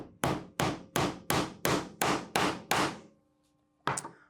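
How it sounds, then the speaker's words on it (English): Eight sharp, evenly spaced hammer blows drive a nail into a wooden treasure box lid braced on a work surface, close and loud, followed by a pause and one final strike. "I'm bracing it against the work surface with my non-dominant hand, and I'm hammering in the nail"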